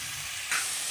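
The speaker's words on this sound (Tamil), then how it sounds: "வெங்காயம் நல்லா வணங்கிட்டுருக்கு பாருங்க." Onions sauté in a pan for a home-cooked gravy, a close, steady sizzle that flares into a brighter, louder hiss about halfway through, with no talking.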